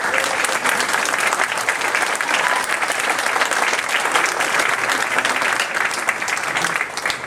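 Sustained audience applause fills a Maryland 8th Congressional District candidate debate hall, a dense, steady wash of clapping from a large crowd that holds level for the full length without pause.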